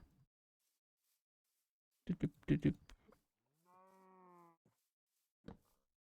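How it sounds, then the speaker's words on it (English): A single cow gives one drawn-out, clear moo in an otherwise quiet setting, preceded by a short burst of other sounds or voices and followed by a brief one. "Oh, cow."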